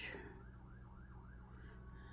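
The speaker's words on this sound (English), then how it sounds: "sorry if you can hear all the sirens. They've been going off for a while" A faint, distant siren wails up and down outside, its rising and falling tone heard over a low indoor hum.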